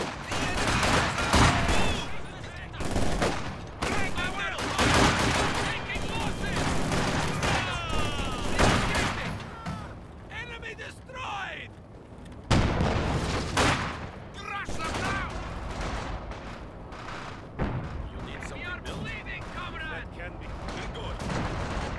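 PPSh submachine gun fire from Company of Heroes 2, a Soviet campaign battle: rapid, repeated bursts of automatic fire mixed with other gunshots and booms. Loud bursts come in waves across the whole stretch, with brief voice lines between them.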